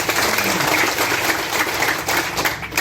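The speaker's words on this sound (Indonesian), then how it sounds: "Tepuk tangan dulu buat" An audience at a vaccination event in West Sumba claps together, a dense, steady patter of many hands that fills the moment without letup.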